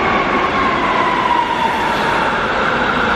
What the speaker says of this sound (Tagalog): May train doting, ang ingay.